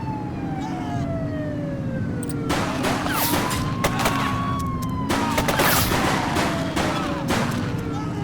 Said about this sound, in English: Shooting from a vehicle. Oh, that's bad. Shots fired!